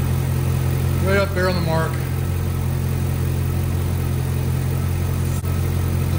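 A 2006 Chevy Silverado with a 5.3L V8 idles steadily with a low, constant rumble, up close. Someone speaks briefly over it near the start.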